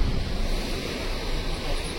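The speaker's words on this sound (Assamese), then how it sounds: "ইফালে অলপ জলপ্ৰপাত আছে" A small waterfall beside a lake on the mountain road to Tawang gives a steady, unbroken rush of water, mixed with wind buffeting the microphone. No one speaks.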